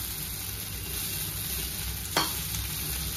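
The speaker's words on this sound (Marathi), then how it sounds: "आता हे व्यवस्थित मिक्स करणार" Poha is stirred into fried onions in a hot pan for Maharashtrian kanda poha, with a steady close sizzle and one brief scrape of the spoon.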